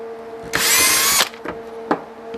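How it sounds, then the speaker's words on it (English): A power drill whirs loudly for under a second while drilling a hole in a flat magnet, then stops, followed by a few short clicks and taps nearby. "Let me drill some holes quick here."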